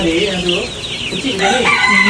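Chickens clucking and a rooster crowing at a hot spring site, several overlapping birds calling close by and fairly loud, with no one speaking over them.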